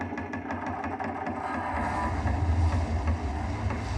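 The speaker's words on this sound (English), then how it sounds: "this is Volcano Eruption B, which is effect number 379 that Ben has made" A volcano eruption sound effect made by Ben Burtt, a loud, continuous low rumbling roar with gusty, wind-like rushing texture and faint crackles, steady throughout with no talk.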